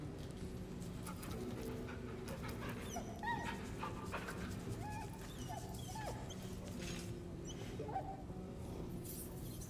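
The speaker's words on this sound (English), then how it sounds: "Pet the dog again." In Baldur's Gate 3, a dog being petted at camp whimpers and pants softly, giving repeated short whines over a steady low ambient hum.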